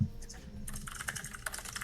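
Someone types fast on a computer keyboard nearby, a dense stream of rapid key clatter that starts partway in and continues with no pauses.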